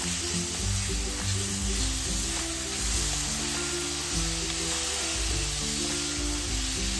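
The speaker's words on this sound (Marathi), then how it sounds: "तुपावरती दुधी भोपळा छान असा परतून घ्यायचा आहे" Grated bottle gourd sautés in ghee with a steady, dense sizzle. The hissing stays continuous and close throughout, with faint stirring underneath and no talking.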